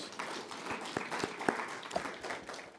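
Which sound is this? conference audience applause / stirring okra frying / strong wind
conference audience applause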